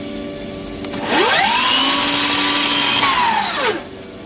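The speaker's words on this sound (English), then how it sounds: "I gotta go cut this one down just a hair" A power saw trims a white oak kitchen cabinet piece in one continuous cut of about two and a half seconds. The motor spins up, holds a steady loud whine through the wood, then winds down, close by with no talking.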